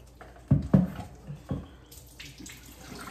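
Tap water splashes and sloshes in a film developing tank during rinsing, a few distinct close splashes and knocks followed by a softer running trickle.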